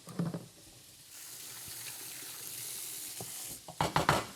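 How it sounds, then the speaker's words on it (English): Steady broadband hiss of meat sizzling in hot oil, with a few clattering knocks of utensils at the start and end. "We're going to get the steak, we're going to put it in, and we're going to listen for that sizzle."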